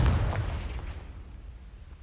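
A Confringo spell explosion in Hogwarts Legacy lands as one heavy, close boom that fades into a rumbling tail over about two seconds, with no other sound competing.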